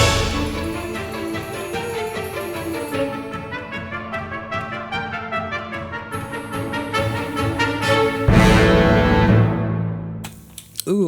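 Orchestral arrangement of the third movement of the Moonlight Sonata, with col legno strings, spiccato violins, woodwinds and trumpets playing a dense, driving passage that swells into a loud, full chord near the end.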